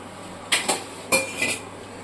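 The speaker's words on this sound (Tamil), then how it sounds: "தட்டு போட்டு மூட்டுருவோம்." Metal clinks and clatters a few times as a metal plate is set down as a lid onto a pot of boiling rice, two quick pairs of bright knocks.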